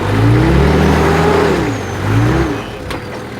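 Off-road vehicle on a rocky climbing track, its engine revving hard in two loud surges with a dip between, close and alone without talk.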